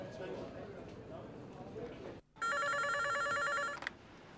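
Telephone ringback heard during an outgoing call placed from a mobile phone, a loud steady electronic ringing tone lasting over a second after a brief silence, preceded by a bed of low rumbling noise.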